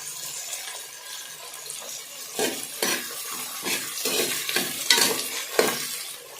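Curry leaves and tomato sauté in hot oil for a country chicken curry, with repeated loud stirring scrapes and spatters over a constant bubbling sizzle close to the pan.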